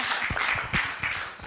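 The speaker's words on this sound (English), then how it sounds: "Could we give him a clap?" An audience at a union AGM gives a speaker a short round of applause, a soft, scattered patter of clapping hands heard from a distance in a hall.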